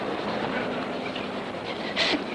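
A train idles at a station platform, a steady broad rumble with a brief hiss near the end, heard close and alone.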